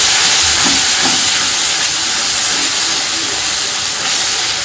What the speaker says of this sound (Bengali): এইভাবে মশলাটা ভালো করে ভেজে নিচ্ছি